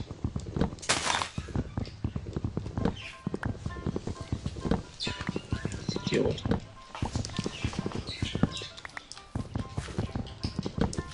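Horse hooves clip-clop steadily in the Minecraft video game, a quick, close run of tapping steps that carries on under continuous talking.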